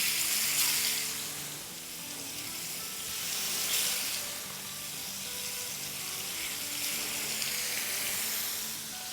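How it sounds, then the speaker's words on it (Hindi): Fish coated in masala frying in a pan over medium-high flame, a steady close sizzle with bright hissing bursts that swell and ease in waves. "और इसे फ्राई करेंगे ऑलमोस्ट 4 मिनट ईच साइड"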